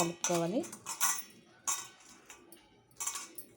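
Fish being mixed by hand with salt and spices in a bowl gives soft, intermittent clinks and scrapes against the dish, several short bursts close by with a brief voice-like tone near the start.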